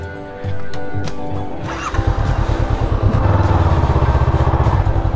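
A motorcycle on a breakfast ride along the zigzag roads of Morong, Bataan, idles briefly, then revs up into a loud, close, steadily pulsing engine drone that holds to the end.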